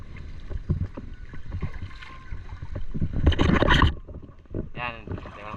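Water slaps and knocks against a small bangka whose engine is not yet repaired, with wind rumbling across the microphone and a denser splashing burst midway. A brief voice sounds near the end.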